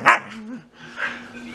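A Siberian Husky lets out a sharp bark followed by a drawn-out, whining vocalization, close and clear indoors.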